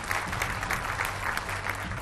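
Applause from a television debate studio audience welcoming guests and children: steady clapping throughout, moderately distant and fairly soft, with no talk over it.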